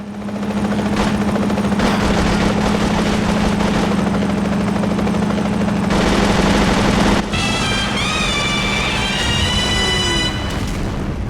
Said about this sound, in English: Watch out for that helicopter!